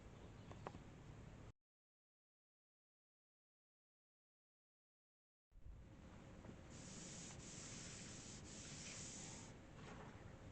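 Abrasive sanding on the body panels of a Peugeot 403 being prepared for paint, close steady rubbing strokes with a gap of silence partway, then continuous rasping with brief sharper passes.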